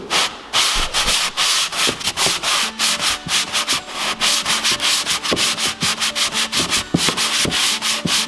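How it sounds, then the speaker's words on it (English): A hand sander scrapes over a drywall corner with an edge attachment, a steady, loud, gritty rasping in rapid back-and-forth strokes with no talk. "When using the hand sander like this with the"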